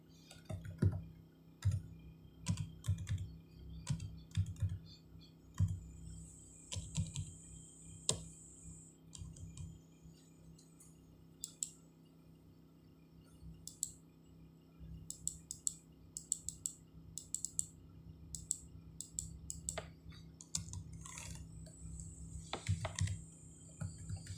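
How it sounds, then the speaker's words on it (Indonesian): Numbers being typed on a computer keyboard while filling in an annual income tax return form, with irregular close key clicks in bursts and short runs over a quiet background, no talking. "Maka kita ketikkan"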